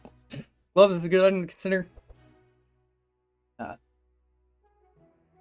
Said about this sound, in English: Apologies on the coughing.